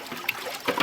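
Juice poured into a bottle at a village fruit juice stall, a short close trickle of liquid with small splashy bursts, no talk.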